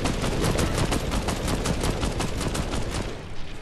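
Dense gunfire in an online shooter video game, a continuous barrage of overlapping shots with a steady crackling roll, loud and busy, dropping off slightly at the end.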